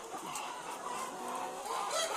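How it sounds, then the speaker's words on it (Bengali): Chickens and roosters cluck and murmur steadily in a barn, a continuous layered chorus of fowl with no talking. "এখানে মোরগ আছে।"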